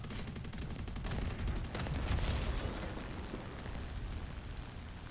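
Aircraft guns on a Ki-61-I otsu fighter fire in War Thunder, a rapid dense stream of shots at an even loud level with a low engine drone underneath.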